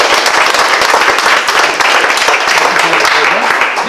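Loud, dense audience applause in a room at a local artisans' event, continuous rapid clapping from many hands held close and steady for the whole stretch.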